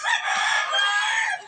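Roosters crowing on a farm where fighting cocks are kept, several loud, sustained cock-a-doodle-doo calls overlapping close by for the whole stretch, with no talking.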